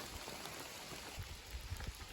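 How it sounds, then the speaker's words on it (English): Steady rain patters down in a soft, even hiss on the Appalachian Trail, with a few heavier drops and footsteps on wet rocks thudding faintly underneath. "I'm just walking alone through the rain on wet rocks"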